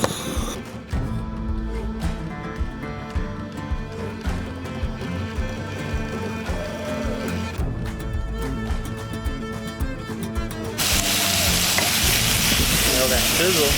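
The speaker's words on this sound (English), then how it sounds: "That sizzle." Onions and chicken sizzling on a grill pan at an outdoor park cookout, a continuous crackling fry under music that swells into a louder, hissing sizzle near the end.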